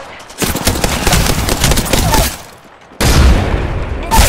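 Rapid bursts of gunfire from an Apex Legends battle, loud and dense, with a brief lull before another close volley resumes.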